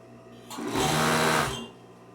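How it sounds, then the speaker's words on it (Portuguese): An overlock sewing machine stitches around the curved edge of a jacket piece, its blade trimming the fabric: a single steady mechanical whirr rises, holds for about a second, and stops, close by and alone. "Eu vou vir até encostar a faquinha do overlock aqui, com cuidado"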